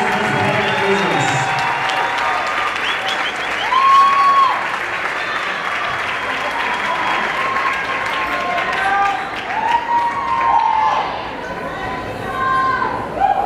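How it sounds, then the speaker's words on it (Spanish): Sustained audience applause and cheering for a salsa dance couple at a salsa congress, a dense crowd clapping steadily with some whoops and overlapping chatter throughout. "Fuertes aplausos para ellos."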